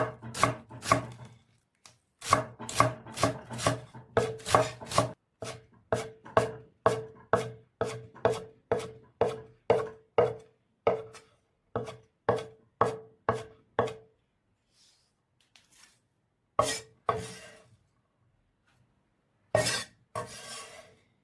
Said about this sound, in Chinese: 韭菜切成末，盛到大碗里备用。